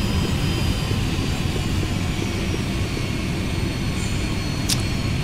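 Falcon 50 jet engines are throttled back in a flight simulator, a steady, loud, broad roar with a low rumble that holds evenly throughout, with no talk.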